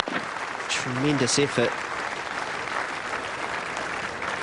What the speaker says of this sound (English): New Zealanders are getting a standing ovation in the crowd